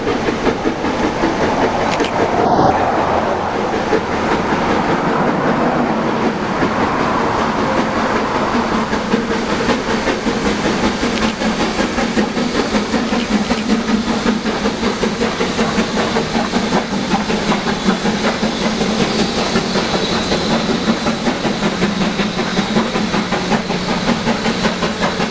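A Great Smoky Mountains Railroad train rolls along the rails beside a river, giving a continuous near rumble with hiss and faint rhythmic clatter, and no voices.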